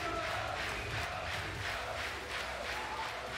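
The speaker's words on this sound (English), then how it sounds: "Listen to the crowd." A large crowd cheers and roars at a tournament final, a dense, steady wall of voices with rhythmic swells like chanting, sustained throughout.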